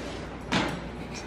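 A door swings shut indoors with a single short thud, set against a low room background.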